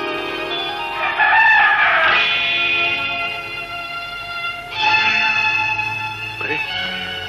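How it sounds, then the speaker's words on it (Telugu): A rooster crows at dawn in a long, loud cock-a-doodle-doo, followed a few seconds later by a second, shorter crow. Both ring out clearly over a quiet night-time scene in a 1977 Telugu film. "కోడి కూడా కూసేసింది"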